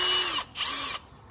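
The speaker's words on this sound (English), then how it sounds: "we're gonna hit the drill in reverse" A power drill turning a left-hand drill bit in reverse to extract a snapped timing cover bolt whirs loudly in two bursts separated by a brief pause, then winds down, the motor's pitch sliding as it spins.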